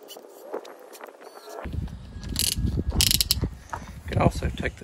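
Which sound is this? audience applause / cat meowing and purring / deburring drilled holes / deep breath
deburring drilled holes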